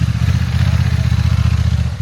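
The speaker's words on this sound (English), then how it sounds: "I was riding the DCT, and this was the first opportunity for me to try the DCT on some proper off-road terrain" A Honda Africa Twin DCT motorcycle ridden off-road on loose, rutted ground: a loud, close, throbbing engine drone with a rapid pulsing beat and a little clatter.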